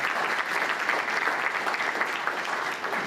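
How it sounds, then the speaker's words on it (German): Sustained applause from an audience at a public presentation of a roundabout project, dense and steady throughout with no pauses. "Das ist ein Applaus auf jeden Fall wert."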